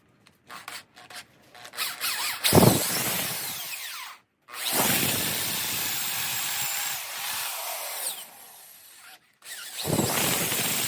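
A power drill whines and grinds through wood for a stereo component rack in three long bursts, separated by brief pauses, close and loud.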